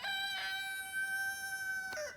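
A rooster crows loudly and close, a single drawn-out call ringing clearly against a quiet background.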